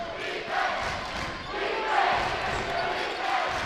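A loud crowd roars from the far side of a high school gym during a boys basketball game, a steady wall of cheering that swells midway, with a commentator's voice faintly under it.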